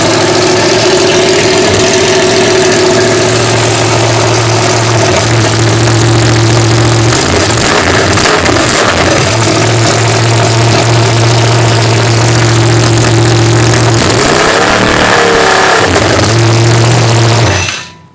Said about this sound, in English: just a quick startup, just so you can kind of hear the engine run at this point in time.